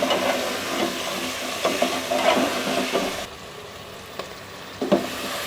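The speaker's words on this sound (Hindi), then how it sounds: "इनको हम मिक्स करेंगे और अच्छी तरह से भून लेंगे ताकि हमारे टमाटर वगैरह भी इसमें गल जाएं" Beef trotters and tomatoes are stirred and fried in a pan, giving a loud sizzle with repeated scraping stirs. The frying drops quieter partway through, and occasional sharp clacks follow.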